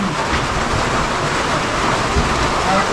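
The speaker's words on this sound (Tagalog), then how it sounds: "Ulan." Steady heavy rain pours continuously as a dense, loud, unbroken wash of noise with no clear pauses.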